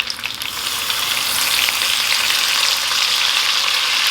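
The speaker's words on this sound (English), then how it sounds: "So you could add about 1 tablespoon of white wine." Cantonese scallion ginger lobster stir-fry sizzles loudly and steadily in a hot pan as a splash of white wine goes in, with a dense, continuous hiss and no talking.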